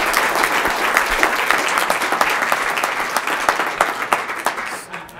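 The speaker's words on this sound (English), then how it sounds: "Everybody, give Pact a huge round of applause." A crowd at a Kansas City startup pitch event gives a loud, sustained round of applause that thins into scattered claps near the end.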